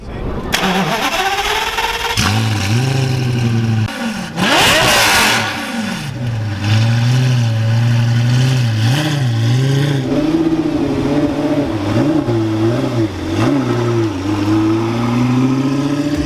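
Lamborghini Gallardo with a 5-liter V10 producing 520 horsepower in the Need for Speed Most Wanted racing game, starting up and revving repeatedly, the pitch climbing and falling in loud, close surges with no talk over it.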